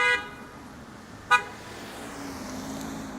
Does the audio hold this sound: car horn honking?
yes